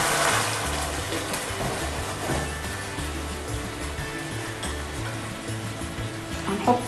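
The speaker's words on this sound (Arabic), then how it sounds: "وهحط معاه شويه ميه." A little water poured into tomato sauce in a cooking pan makes a continuous, moderately loud rushing and bubbling, with a low hum beneath and a brief splash at the end.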